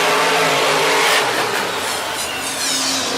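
Monster trucks, Grave Digger among them, race in the final round of an arena event, their engines roaring loud and steady with a broad, harsh wash of noise that swells and eases slightly.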